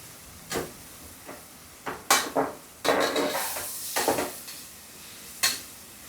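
Ginger and garlic stirred in a hot pan for vegetable biryani: a spoon scrapes and clacks against the metal in irregular bursts over a faint sizzle, up close with no talking.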